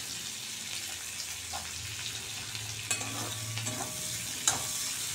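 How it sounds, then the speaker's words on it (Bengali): Black cumin, green chili, onion and shrimp sizzle in hot oil in a pan, a steady close frying hiss broken by a few sharp stirring scrapes and clinks, no voices. "একটু কালো জিরে, কাঁচা লঙ্কা, পেঁয়াজ আর চিংড়ি মাছ একসঙ্গে দিয়ে আমি এটা ভেজে নিচ্ছি আগে"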